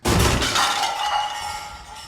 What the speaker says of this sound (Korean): 주방에서 들려오는 그릇 깨지는 소리.